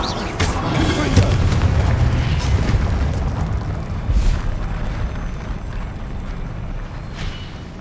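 Confringo fire spell blasts in the game Hogwarts Legacy, a dense rumbling boom with crackling bursts, loud and sustained, swelling again near the middle among other game effects.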